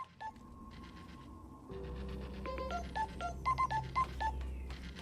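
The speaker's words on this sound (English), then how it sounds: "That sounds like a phone to me." An electronic phone ring in the video game Scrap Mechanic Survival: a run of beeping, dial-tone-like tones that repeat in short bursts over a low background hum, moderately loud and without speech.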